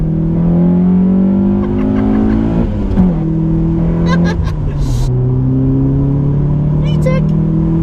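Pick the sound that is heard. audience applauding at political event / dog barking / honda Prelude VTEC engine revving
honda Prelude VTEC engine revving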